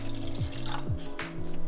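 Water pours into a saucepan, one and a half cups measured in for a simple dinner; a short, close, steady liquid splash and fill sound with no talking.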